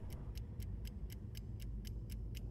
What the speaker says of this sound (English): The ticking of the clock every time.